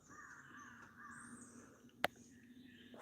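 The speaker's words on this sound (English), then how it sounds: "Can hear them birds a chirping this morning on the lake" Birds call across Bull Shoals Lake in the morning, a few harsh caw-like cries carrying over a quiet open-air background, with one sharp close knock partway through.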